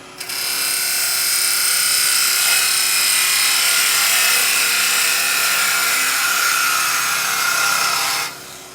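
Parting tool cutting into a spinning wooden Christmas tree blank on a lathe, a steady, loud, bright high-pitched scraping whine held close for about eight seconds before stopping abruptly.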